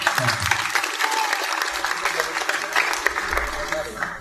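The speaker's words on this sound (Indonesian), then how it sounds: "kita tepuk tangan untuk Miss Ang" Audience clapping at the opening of a regional cultural gathering in Riau Islands, a dense steady burst of applause from a crowd, fading slightly at the end, with a voice heard briefly at the start.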